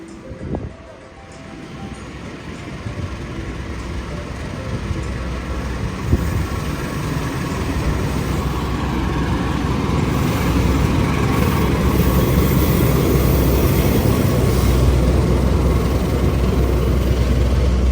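Brawijaya train pulling in on track 3 at Gambir station in Jakarta, a broad low rumble and rolling roar that builds steadily and stays loud and close, with a faint high whine near the start.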